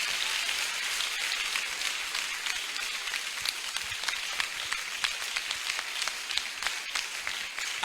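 Crowd at an evangelistic crusade in Tiassalé applauding and cheering, a dense, steady wash of clapping that holds loud throughout with no speech over it.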